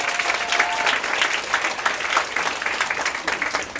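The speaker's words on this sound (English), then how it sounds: "Folks, give Gray a big round of applause." An audience claps warmly for a young game-show contestant at the Wild Adventures zoo show, a dense, sustained round of applause at a steady level, with a brief faint tone early on.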